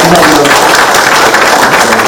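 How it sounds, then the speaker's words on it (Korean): An audience at a Mungyeong gathering with the provincial governor applauds loudly and steadily, dense clapping filling the space throughout with no pauses. "박수 한번 드리겠습니다."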